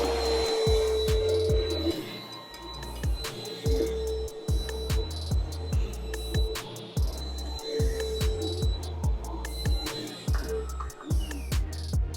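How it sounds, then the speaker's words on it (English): A vacuum cleaner runs nearby in a house shown for a real estate listing, with a steady whine and a regular pulsing throb that repeats every second or so, no talk over it. "There's a new tool called a vacuum, and let me show you how this thing works."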